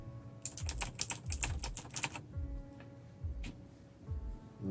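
Soft, muted typing on Kailh keyboard switches in a quick burst of keystrokes, then a few scattered, quieter taps with pauses between them.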